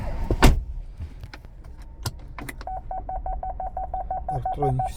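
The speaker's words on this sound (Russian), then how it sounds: "Парктроники все отлично работает." A Chevrolet Spark 1.0 from 2019 sounds its parking sensor, a fast, regular series of short electronic beeps starting midway, preceded by a few clicks and knocks inside the car, quiet and close with no talk.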